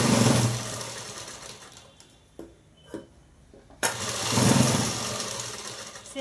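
A sewing machine stitching cloth whirs steadily, stops briefly with a few mechanical clicks, then starts up again, with no talking.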